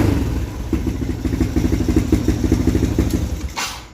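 A motorcycle engine with an MB CDI idles close by with a steady, lumpy rhythmic putter, then a brief hiss near the end.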